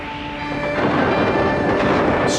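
Rumbling thunderstorm roar called up as dark storms by a summoning cry, a broad, steady wash of thunder and rain-like noise that swells slightly and holds loud throughout.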